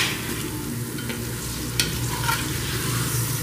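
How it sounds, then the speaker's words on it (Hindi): Tomatoes fry in hot ghee for a mutton curry, giving a steady close sizzle with occasional scraping stirs of a spoon in the pan and no talking. "टमाटरों को भी तकरीबन मैंने दो मिनट फ्राई कर लिया घी के साथ"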